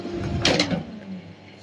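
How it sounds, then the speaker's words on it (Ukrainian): A Xiaomi Smart Air Fryer 5.5L basket pulled out of the unit gives a brief plastic sliding scrape and clunk over a low fan hum, close and fairly quiet. "Коли ви виймаєте кошик,"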